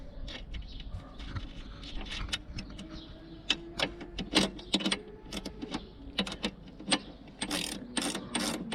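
A ratchet clicks in short bursts while tightening lock nuts on a motorcycle luggage support mount for side bags, with close, irregular metallic ratcheting and pauses between runs and no speech.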